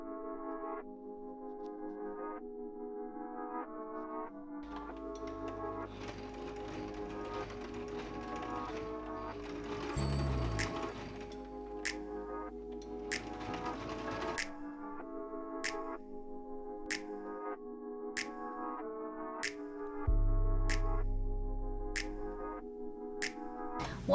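Sewing machine stitching the leather of a large DIY sling bag, with several runs of fast, steady mechanical whirring and clatter, separated by pauses filled with sharp single clicks and a faint background tone.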